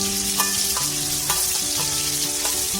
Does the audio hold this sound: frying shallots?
yes